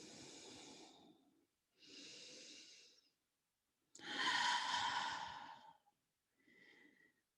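Slow, deep breathing during a yoga child's pose: four drawn-out breaths, close and fairly soft, each rising and falling with short silences between and the third the fullest.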